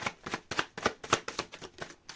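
Tarot cards being shuffled: quick, close riffling bursts of papery slaps in an even rhythm, about eight in two seconds, with no voice.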